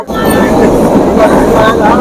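A passenger train pulling out of Canning station near the Sundarbans, a loud, steady rumble of the moving carriages with a bright metallic screech and crowd chatter mixed in.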